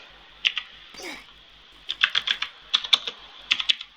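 Keys on a computer keyboard clatter as a chat message is typed during an online game, with several quick bursts of close, crisp clicking separated by short pauses.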